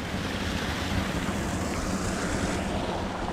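Strong rushing water at a camping site in San Pablo, Laguna, makes a loud, continuous, close roar with no break and no talk.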